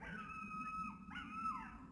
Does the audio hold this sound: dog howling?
yes